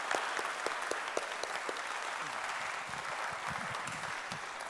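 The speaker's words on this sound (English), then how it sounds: "We give a big applause for everybody." Crowd applause at an annual conference closing ceremony, a broad, sustained roar of many hands clapping, heard somewhat distant and soft, with a few sharper individual claps and faint murmuring voices beneath.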